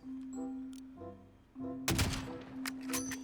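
A burst of video game gunfire rings out as a player shoots an opponent, a sharp loud crack followed by a few quick trailing shots over a steady background hum, with no voices.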